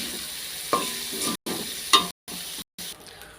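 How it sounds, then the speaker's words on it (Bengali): Carrots and potatoes fry in a pan with chopped garlic, cinnamon, bay leaf, cumin and green cardamom for vegetable pulao, making a close sizzle broken by a couple of sharp stirring scrapes. "সুন্দর করে গাজর, আলু এগুলো সুন্দর করে আমি ভেজে নিচ্ছি।"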